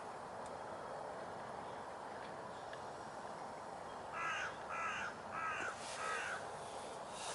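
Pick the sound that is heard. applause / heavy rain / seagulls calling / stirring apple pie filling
seagulls calling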